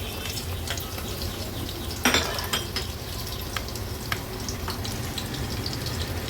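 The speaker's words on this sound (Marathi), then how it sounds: "आता फोडणीला लसणाच्या पाकळ्या आणि हिरवी मिरची घालूया" Oil sizzles and crackles steadily in a pan, with a sharp burst of spattering as garlic cloves and green chilies drop in, followed by light clinks of a utensil.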